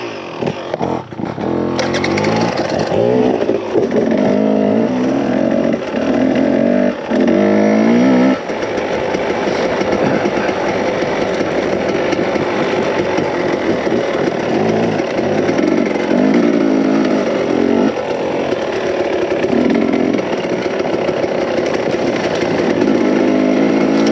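A Husqvarna TE3 dirt bike engine drones steadily as it rides desert single track near Wickenburg, Arizona, rising and falling with the throttle. The buzz stays close and continuous and carries alone, with no talk over it.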